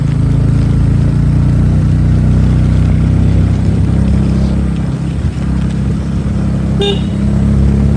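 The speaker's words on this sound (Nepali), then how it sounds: "यसरी हर्न पनि बजाउनु पर्छ।" Vehicle horn on a rainy road near Supa Deurali, one short toot sounding over a loud, constant engine rumble near the end.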